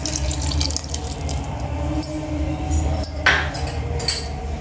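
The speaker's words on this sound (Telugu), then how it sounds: "ఇప్పుడు మనం కొంచెం అంతా చింతపండు రసం వేసుకుందామండి టేస్ట్ కొరకు" Tamarind juice pours into a pan of gutti tomato curry, a close, liquid splashing and trickling with a few small clinks from the cookware near the end.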